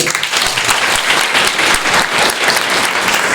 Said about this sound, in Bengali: নন্দিনীর জন্য হাততালি হবে।